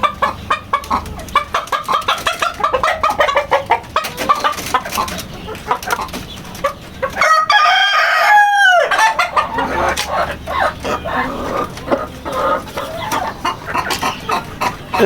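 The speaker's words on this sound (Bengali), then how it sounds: "এই যে ভাইয়া দেশি মুরগি" Local desi chickens cluck steadily on a farm while a rooster crows loudly once in the middle, rising over the clucking flock.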